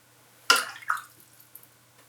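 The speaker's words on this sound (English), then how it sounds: "I'm going to wet the paper first in this case" A brush loaded with water dabs onto watercolour paper, making two soft wet splashy strokes close by, followed by faint small drips and dabs in a quiet room.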